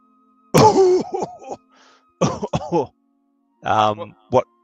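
A voice imitates harsh, rasping coughs in three separate bursts, loud and close, with short pauses between them.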